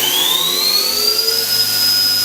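The spindle of a 1998 Cincinnati Arrow 1000 CNC vertical machining center spins up to 6,500 RPM, giving a loud, steady high-pitched whine that rises in pitch and then holds over a low mechanical hum.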